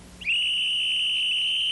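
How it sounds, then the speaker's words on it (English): A coach whistle blown right next to the ear, a sudden piercing, steady shrill tone that starts abruptly and holds loud and unbroken without any voices. "whenever someone blows a fucking coach whistle in my ear"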